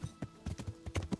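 Horse hooves clip-clop at a steady walking rhythm in Kingdom Come: Deliverance, several close, soft hoofbeats by a river at night, with no talk.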